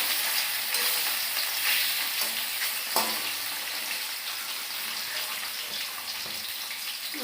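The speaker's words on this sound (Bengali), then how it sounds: "মাছটা ভাজা বসায় একটু পরে ভাতটা বসায়।" Katla fish sizzling in hot oil in a pan in a home kitchen, a continuous loud crackle and hiss with a brief sharper spatter partway through, no voices.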